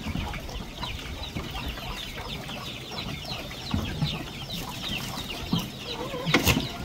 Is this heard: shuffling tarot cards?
no